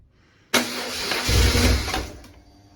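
A BMW R1100 RT motorcycle engine cranks and catches, running loud and close for about a second and a half with a brief rise, then cuts out and fades.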